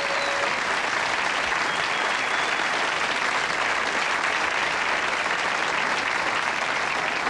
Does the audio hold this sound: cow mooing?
no